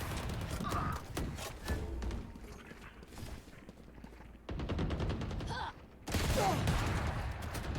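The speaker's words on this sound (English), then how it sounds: "Couple shots traded right there from Ace." Gunfire exchanged in a Valorant match, bursts of rapid shots and sharp cracks separated by quieter gaps, mixed with game sounds and a commentator talking.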